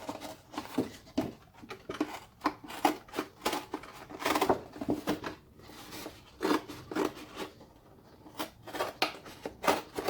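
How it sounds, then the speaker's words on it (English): Scissors cutting along the edge of cardboard for a mask in a steady series of crisp cuts and rustles, close and fairly quiet, with no talking. "I'm going to carefully with my scissors come in and cut along the edge"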